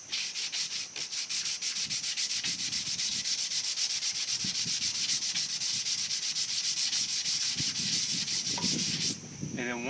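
Steady rhythmic scratching of sandpaper rubbed back and forth over wood, close and continuous, ending with a brief clatter.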